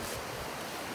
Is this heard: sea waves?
yes